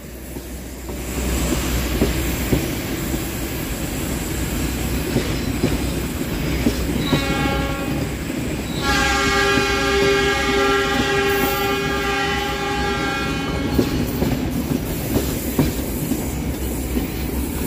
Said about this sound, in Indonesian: kereta api Cikuray saat ini sudah meninggalkan stasiun Leles